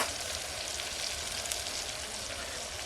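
Onions frying in a pan with salt over a village cooking fire make a steady, even sizzle with fine crackle throughout, close and moderately quiet, with no talk.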